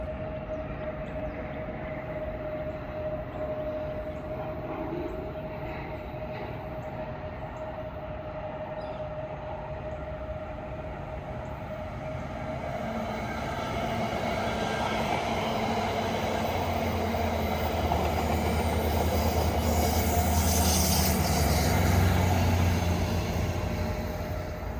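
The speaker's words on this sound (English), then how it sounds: "Next up is a northbound Virginia Railway Express train headed for Union Station." A northbound Virginia Railway Express commuter train rolls past near Washington DC, a steady rumble that swells louder partway through, with a sustained tonal whine running underneath.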